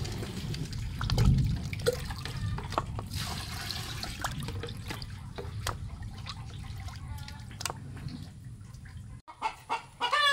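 Gamecocks cluck in the background of a busy yard, blending with steady watery sizzling and clatter; a short crow rises near the end.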